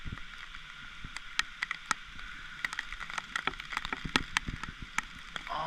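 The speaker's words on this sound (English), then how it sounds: "the rain's starting to die down and it's starting to come straight down instead of sideways" Steady rain falling straight down after a storm in St. Paul, Minnesota, a dense close patter with scattered sharper drops and taps standing out, no voices.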